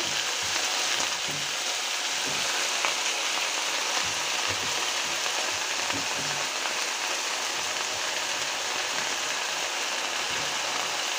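Leafy greens drop into hot oil with lightly browned onion and garlic, giving a continuous dense sizzle like steady rain, close and even, with faint stirring underneath.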